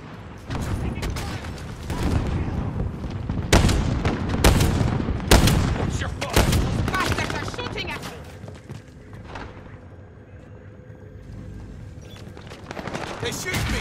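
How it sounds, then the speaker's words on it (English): Heavy gunfire in the game Call of Duty Warzone: bursts of machine-gun and rifle fire with loud booming shots, densest in the first half and then thinning to scattered reports, with occasional talk underneath. "They're shooting me!"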